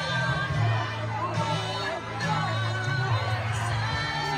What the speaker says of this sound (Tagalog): Sigawan po mga kababayan.